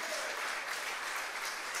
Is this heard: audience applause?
yes